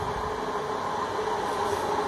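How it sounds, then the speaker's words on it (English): Train passing, a continuous loud rumbling roar with steady rail and wheel noise holding throughout, no voices heard over it. "See that train up there."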